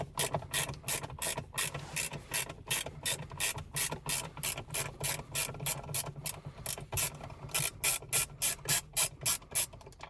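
A ratchet with a Torx socket turns out a T20 Torx screw in a Mercedes C-Class W204, a rapid, regular clicking of the pawl repeated through many strokes, loud and close.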